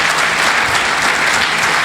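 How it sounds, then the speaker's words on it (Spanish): A church congregation claps loudly and continuously, a dense wash of applause from many hands with no pauses. "Le damos fuertes palmas a nuestro Dios"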